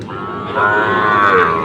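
Sahiwal bull calves at the Ambari livestock market in Dinajpur give a loud, drawn-out moo lasting about a second, close by over a low murmur of market noise.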